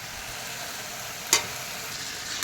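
Goat meat frying in a hot pan makes a continuous hiss and sizzle, broken by one sharp clatter of a utensil against the pan partway through.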